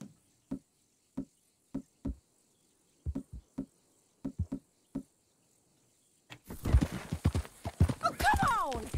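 Horse hooves clip-clop in steady, evenly spaced beats on a hard surface in Red Dead Redemption 2, alone at first, then joined by louder mixed sounds and voices toward the end.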